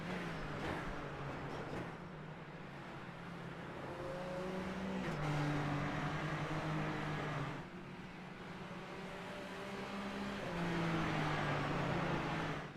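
Super Formula Light race car engines whine steadily in a sim racing game, several cars droning with rising and falling pitch over nearly thirteen seconds, loud and continuous with no talk.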